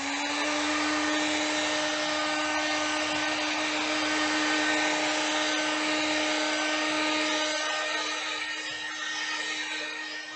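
Hair dryer blowing steadily on a freshly painted mandala, a continuous close whine with a strong humming tone that holds unbroken throughout, no talking over it.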